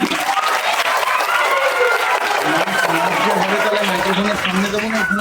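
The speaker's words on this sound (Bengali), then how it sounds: "জোরে একটা হাততালি চাইছি" A crowd applauding loudly and steadily for a guest at a public gathering, dense continuous clapping throughout with voices mixed in.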